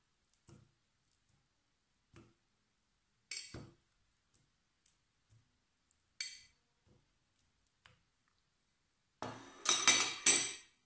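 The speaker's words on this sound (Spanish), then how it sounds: "Ahora este plátano lo introducimos en el vaso de la batidora." A banana being put into a blender glass: sparse, quiet knocks and light clinks, a few scattered taps followed by a louder cluster of rattling contact near the end, all close and without talk.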